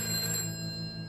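A telephone rings with a bright, steady electronic tone during a phone call in the video game A Way Out, one sustained burst heard close up with nothing else over it.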